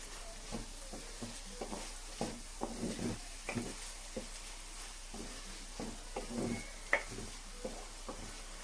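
Chana masala being stirred in a pan with curry leaves, methi leaves, spring onion and coriander, with soft scraping strokes at a steady pace over a faint sizzle, close and quiet, no speech.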